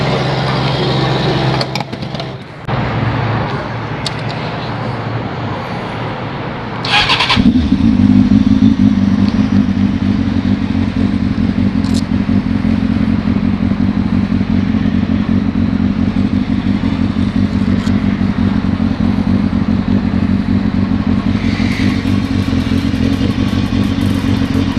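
Honda 600 Hornet motorcycle engine revving hard while riding, a loud sustained drone that climbs after a brief drop in the first seconds and then holds steady at high revs.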